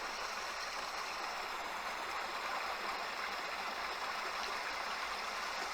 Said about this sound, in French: cette eau qui tombe, voilà, vous l'entendez, cette eau